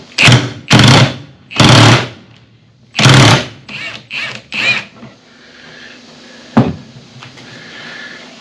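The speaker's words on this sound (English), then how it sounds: "get this nut off the end. So I'm going to hold that down, use my impact" An impact wrench removes a nut from the end of a hydraulic cylinder on a Kubota 4690 backhoe attachment dipper, working in several loud, short rattling bursts with brief pauses and a final sharp knock.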